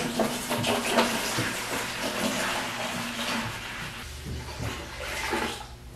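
Three gallons of tap water pour into a pail to mix coolant for a Haas machine, giving a continuous, fairly close splashing and rushing hiss that fades slightly near the end.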